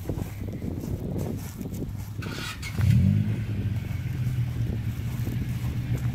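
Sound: 2000 Honda Civic engine revving during Seafoam treatment

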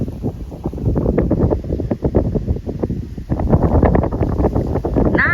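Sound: strong stormy wind blowing outdoors

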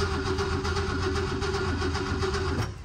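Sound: 1975 Ford Maverick engine cranking and failing to start

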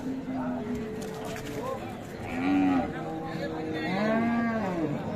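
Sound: cow at a cattle market

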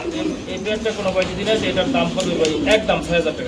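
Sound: Maltese pigeons cooing

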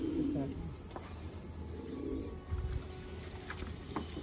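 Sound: pigeons cooing

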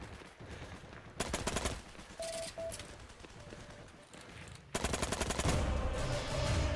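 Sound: gunfire in the video game Heroes & Generals

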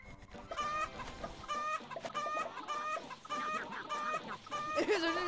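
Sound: chickens clucking in Roblox egg farm simulator video game

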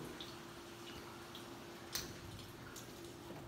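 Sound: water dripping in missile silo level 2

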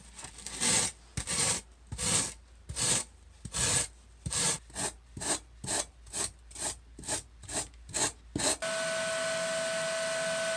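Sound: rasp filing styrofoam

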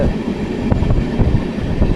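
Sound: train running, heard from inside the carriage

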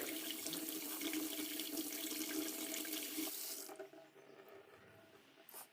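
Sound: washing spices under running water

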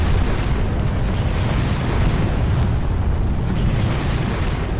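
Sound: rocket explosions hitting a hill in the video game Far Cry

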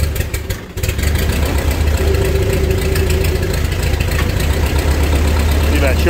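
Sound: Ford 8N tractor engine running after restoration

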